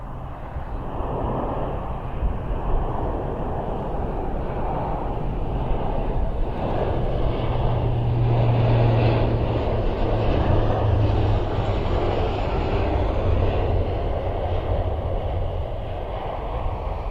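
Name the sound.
airplane doing a touch and go at an airfield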